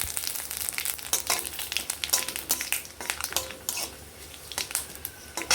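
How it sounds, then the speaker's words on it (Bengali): Dried chillies, bay leaves and panch phoron hitting hot oil in a pan, giving bursts of crackling sizzle and spitting pops, with light scrapes and clinks of a utensil against the pan, close and fairly loud. "2টো শুকনো লঙ্কা, আর দিয়ে দিলাম হচ্ছে 5 ফোড়ন, অল্প, মানে 1/2 চা চামচ মতন ফোড়নে"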